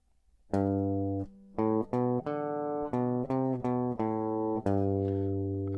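A guitar picks out a simple melody from the last two bars, around ten distinct notes, each ringing briefly before the next, played alone and up close.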